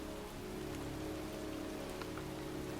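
Pouring rain in a cemetery makes a steady, dense hiss of drops striking surfaces, constant and fairly quiet throughout with no other sounds standing out.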